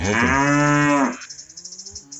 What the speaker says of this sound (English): And if I get a couple cows, I get a couple cows.